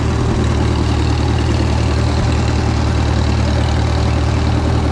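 A 1948 Farmall M tractor engine idles steadily and loudly up close, a constant low rumble with an even pulse and no talk over it.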